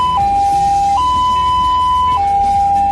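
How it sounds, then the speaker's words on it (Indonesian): Ambulance siren alternating between two tones in a slow high-low pattern, like a railway crossing bell, loud and close over a low engine rumble. "Kalau kamu mendengar seperti bunyi palang kereta api, itu tandanya ambulans sedang dalam perjalanan menjemput pasien."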